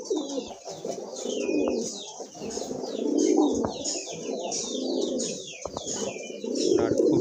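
Pigeons cooing continuously at close range in a pigeon farm, with soft overlapping rolling coos and some light chirps and wing movement in the background.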